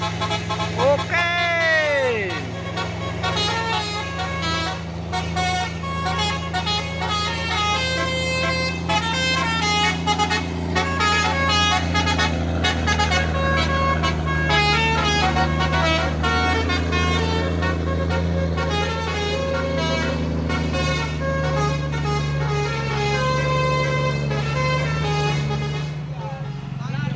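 Diesel truck and bus on a hill road in Indonesia, long sustained horn blasts sounding loud and continuous over steady engine rumble, while people talk over them.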